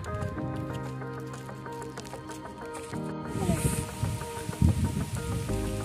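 Sudden heavy rain pours down outdoors under jamun trees near a pond, a dense patter over a steady background tone, the drumming growing louder and more splattery in the second half.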